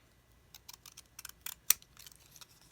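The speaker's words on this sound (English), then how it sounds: "I took my little decorative edge scissors" Decorative edge scissors snip through paper in a quiet room, a string of soft, short crisp cuts with one sharper snip near the middle, close and faint with no talking.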